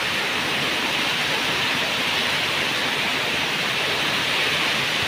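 Heavy rain pours down in a hilly area, a dense, steady hiss that stays loud and unbroken with no other sounds.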